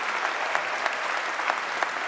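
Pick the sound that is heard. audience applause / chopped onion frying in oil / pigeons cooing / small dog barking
audience applause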